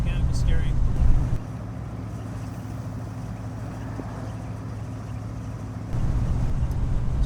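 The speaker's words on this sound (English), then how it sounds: "So in third gear, we're humming along here, 35. Engine's just cruising." A 1931 Buick Series 60 sedan cruises in third gear at about 35 mph, its engine giving a steady low hum with road and cabin rumble. A louder stretch opens and closes the clip.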